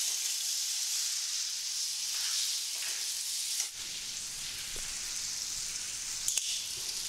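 Tomatoes tipped into softened onions in a pan for drumstick masala give a steady, quiet sizzle and hiss that briefly dips and then resumes, with a few faint clinks over it.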